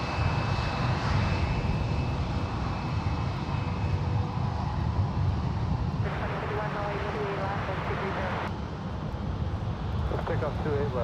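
A WestJet Boeing 737-700 airliner roars on its takeoff run at San Francisco International Airport, a loud continuous jet engine rumble and whine heard from nearby, while air traffic control radio chatter and a commentator talk over it.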